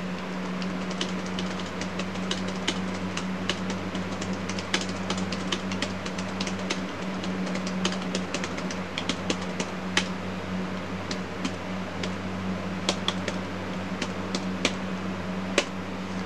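An Epson FX-86e dot matrix printer printing a single line of text, a rapid series of sharp mechanical clicks and buzzing strikes over a steady low machine hum.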